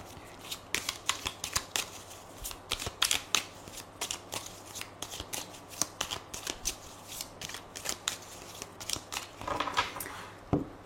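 Tarot cards are shuffled and cut by hand in a quiet room, a run of soft, close riffling flicks and slaps in irregular bursts with no talking.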